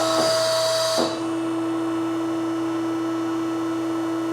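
A mandrel tube bending machine sets a steady electric hum and tonal whine, with a brief louder mechanical whirr at the start that drops to a constant, even drone.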